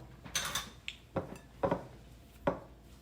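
Ice cream scoop portioning mint maple chocolate chip cookie dough, giving a few sharp scraping knocks and clinks spaced about a second apart, close up with no talking.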